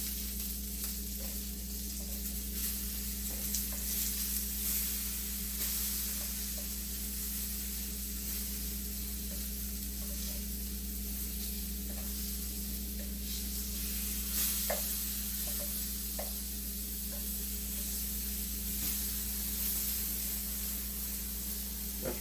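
A giant puffball mushroom frying in a pan, seasoned with black pepper and starting to smoke, giving a steady close sizzle with faint crackles and pops over a constant low hum, no talking.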